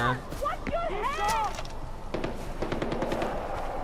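Bursts of automatic gunfire in the video game Far Cry 4 crackle through a busy game soundscape, with scattered sharp shots and someone talking over the action.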